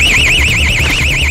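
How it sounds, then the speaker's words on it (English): A burglar alarm set off during a police forced-entry raid gives a loud, warbling electronic wail that rises and falls quickly and keeps going without a break, close and piercing. "They've tripped the burglar alarm."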